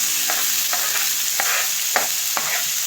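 Onions and slightly fatty minced meat sauté in a little oil for the filling of Uzbek manti, a steady close sizzle broken by several sharp scrapes of stirring at regular intervals.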